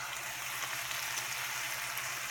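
Steady, close-up sizzling and crackling of a steak frying in a hot frying pan, an even hiss with no talking.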